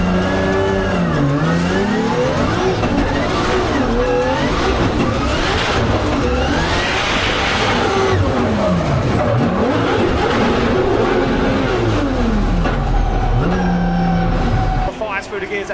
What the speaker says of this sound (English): Through the gears, that carbon Kevlar Supra, but look at Tessa Witt on the back bumper, no messing around as she fires through.